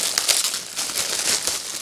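Close, crackling crinkle of cardboard home theater speaker packaging being torn open, a quick burst of papery rustling and ripping lasting under two seconds.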